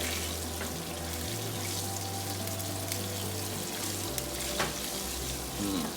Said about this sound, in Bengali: বেশি করে জিরা দিয়ে দেবো এবং জিরাগুলোকে একটু নাড়বো, একটু নেড়ে নিব, লাইক হালকা একটা ফ্রাই করার মতো।